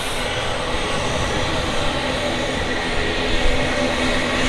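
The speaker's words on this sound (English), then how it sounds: "The Emirates 777. Oh boy, what an aircraft." Emirates Boeing 777 at Manchester Airport giving a steady, broadband jet engine roar, loud and continuous throughout with no pauses or talk.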